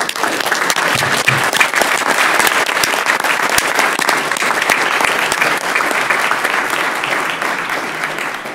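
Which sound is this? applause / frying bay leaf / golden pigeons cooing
applause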